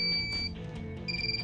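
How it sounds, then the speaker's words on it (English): High electronic beep tones from a TBS Vendetta drone's flight controller sound close by, stopping briefly and then resuming, over a low background hum. "you'll notice that incessant beeping"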